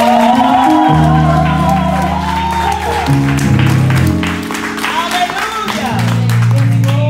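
Congregation at a Resurrection Sunday church service claps in praise for visiting guests, steady applause running beneath loud organ or keyboard chords and sustained music throughout.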